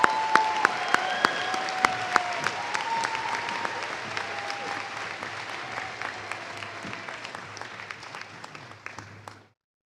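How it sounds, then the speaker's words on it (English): Sustained applause from a large audience at a winter commencement ceremony, many hands clapping with sharp individual claps standing out, holding steady for about nine seconds before cutting off. "Please give them a round of applause."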